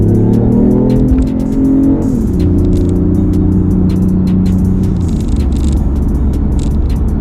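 A BMW i8 sports car engine roars loudly and continuously from inside the cabin, pitch stepping between gears with a deep, throaty drone and faint ticking clicks.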